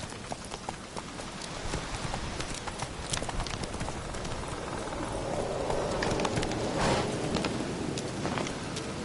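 Roach, the horse in the video game The Witcher 3, trots along with steady clip-clop hoofbeats, fairly close and continuous over a dense outdoor ambience.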